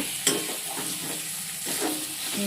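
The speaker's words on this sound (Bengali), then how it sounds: "পেঁয়াজটা ভাজা হয়েছে আর পেঁয়াজটা নরমও হয়ে গেছে" Onions that have turned soft and golden sizzle in oil while a utensil stirs them, with a steady frying hiss broken by a sharp scrape and a few lighter stirring strokes.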